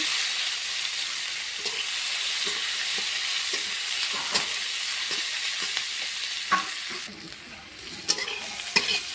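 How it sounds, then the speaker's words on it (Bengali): Chopped onions, with ginger and garlic, sizzle and crackle in hot oil as they fry to light brown, with soft scraping stirs tapping the pan at irregular intervals. "পেঁয়াজটা হালকা লাল লাল করে ভেজে নেব"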